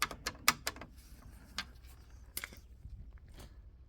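Several sharp, small clicks and taps scattered through a quiet background, with one crisp click standing out near the start and a couple more later, from a driver's-door central locking mechanism clicking into place.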